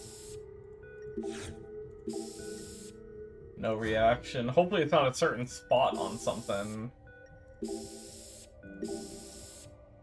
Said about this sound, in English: I'm just gonna, like, try to spray everything.